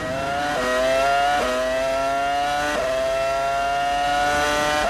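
McLaren Mercedes Formula 1 car from 2005 screaming at high revs on a qualifying lap at Bahrain, heard onboard and very loud, with rising pitch sweeps cut by quick upshifts about every second or so.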